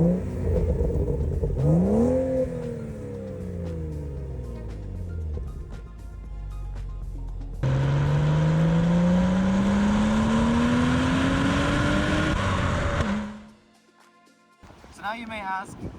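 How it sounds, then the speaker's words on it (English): A rebuilt engine from a manual BMW runs and revs, first rising and falling, then climbing through a long steady pull before dropping to near silence, with a brief burst of noise at the end. "Engine runs very good, especially considering how bad this engine looked when I first pulled it apart"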